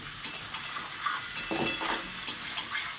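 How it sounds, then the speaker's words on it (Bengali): Sliced ivy gourd and potato stir-fry in a hot pan with a soft hiss, punctuated by light scraping and tapping as a utensil tosses the vegetables, with no talking. "এবার সব কিছু একসাথে মিশিয়ে ভালো করে নেড়ে চেড়ে ভেজে নেব"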